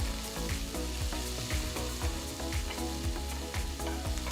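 Chopped onion sautéing in a hot pan of oil with cumin and mustard seeds and a pinch of asafoetida, a steady close sizzle with repeated scraping strokes of stirring.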